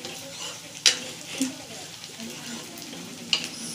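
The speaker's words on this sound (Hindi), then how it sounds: "मैं इस स्टेज पे डालती हूँ लाल मिर्च क्योंकि मुझे पता है कितना इसको भुनने की ज़रूरत है ये इसमें तड़क जाएगी" Red chilies crackling as they fry in hot oil with spices: a steady low sizzle under a few sharp pops and one soft clink of a spoon against the pan.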